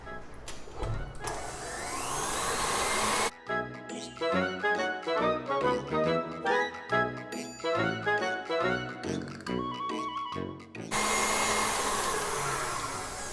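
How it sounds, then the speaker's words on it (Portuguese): Electric hand mixer beating walnut cookie dough in a bowl, a whirring motor that runs steadily, breaks into choppy pulsing bursts as the beaters knock the dough, then resumes a smooth drone, with no talk. "Então volta a bater mais um pouquinho. O tempo aqui vai depender da potência da batedeira."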